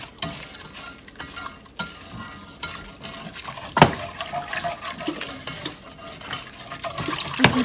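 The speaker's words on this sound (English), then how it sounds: "I'm gonna put just a little bit and get it mixed up good." A whisk stirs blueberry sugar cream pie filling in a bowl, giving a steady wet swishing and clicking that runs throughout, close and fairly loud, with no voices.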